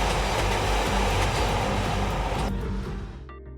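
Loud, steady rumble of a train rolling on iron rails, wheels grinding continuously before the noise begins to fade away.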